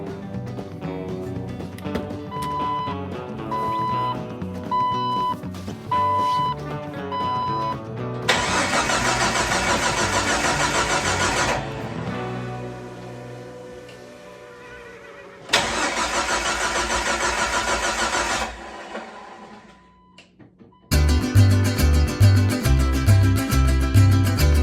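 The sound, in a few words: rebuilt Jeep 4.0 engine first start attempt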